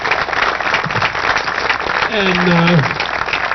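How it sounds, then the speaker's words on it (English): Applause for the volunteers at a charity Wiffle ball tournament, a crowd clapping in a broad, continuous wash as a voice speaks over it near the end. "Do we already give them one more round of applause?"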